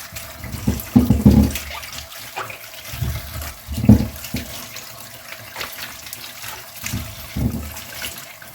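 Cucumbers are rinsed under a running kitchen tap before salting for winter: water gushes and splashes in uneven bursts as the vegetables are turned under the stream, close and alone without talk.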